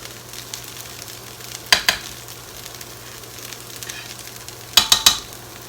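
A spatula scrapes and breaks up hash browns frying in a pan, two brief clusters of clattering scrapes over a steady low sizzle, close by with no voices.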